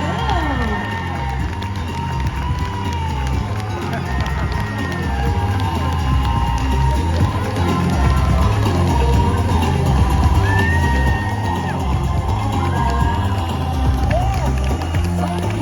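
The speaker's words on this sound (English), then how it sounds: "please keep your applause going for Mandip, Gill and Jodie Whittaker of Doctor" Comic-con panel audience at Midlands Comic Con cheering and applauding for Doctor Who actors, a dense, loud roar of clapping and shouts with music playing underneath, sustained throughout.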